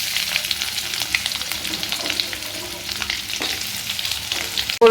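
Onions hit hot oil already crackling with mustard seeds and curry leaves, a dense, steady close sizzle with light stirring throughout and a sharp clatter at the very end.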